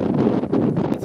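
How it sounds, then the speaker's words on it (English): Wind buffets the microphone on an exposed footpath in Northumberland, a low rumbling, fluttering roar that stays close and steady over a brief second. "It's a little bit windy on the footpath"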